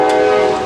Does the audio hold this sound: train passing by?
yes